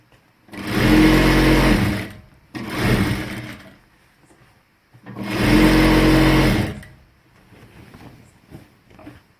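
A sewing machine stitches a folded salwar hem in three separate bursts of rapid mechanical whirring, each a second or two long with short pauses between, close and loud, with no talking.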